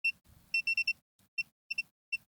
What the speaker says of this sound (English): I'm just going to go into continuity mode and I'm just going to check the caps around M92.